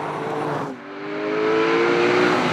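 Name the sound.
Porsche 911 GT3 driving on the road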